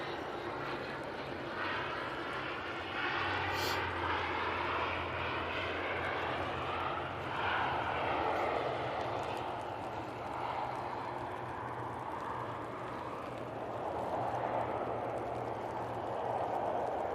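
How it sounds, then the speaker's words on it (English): Jet engines of an Emirates Airbus A380 spool up before departure at Manchester Airport, a steady, fairly distant roar and whine that swells gently and holds, with a faint voice speaking now and then. "You can hear the Emirates putting a bit of power on."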